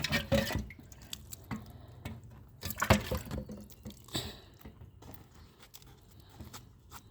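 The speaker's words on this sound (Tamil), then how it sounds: "தண்ணி தெளிச்சு" Soft scattered drips and splashes of water sprinkled onto soil in a small pot of fenugreek, irregular and close, with quiet gaps between bursts.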